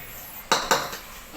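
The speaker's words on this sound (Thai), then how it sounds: "สูตรต้องเคาะกระทะ" A metal spatula raps a frying pan three times, two sharp clanks then a softer third, ringing briefly in a quiet kitchen while stir-frying grilled intestines and tripe with basil.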